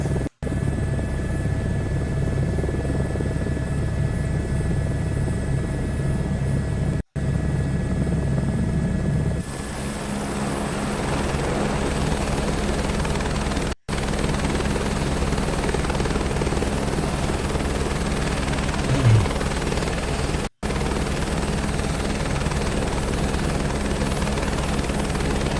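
Helicopter in Microsoft Flight Simulator 2024 drones steadily with a constant rotor and engine hum, loud and close throughout, with a few brief dropouts and no talking.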